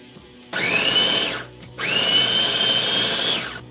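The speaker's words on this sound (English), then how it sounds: "you want to throw it through a food processor" A food processor purees cooked, peeled pumpkin for pumpkin soup. Its motor runs in two loud, close bursts with a high whine and short pauses between them. No one speaks.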